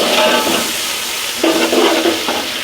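Onions dropped into hot oil with whole spices for mutton yakhni pulao, a steady close sizzle and frying hiss that swells brighter and louder halfway through as they hit the pan, with no talk.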